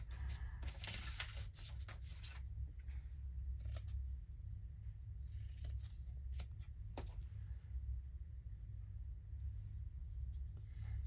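Scissors snip through book pages in several short, crisp bursts over a low steady rumble, with quiet gaps between cuts.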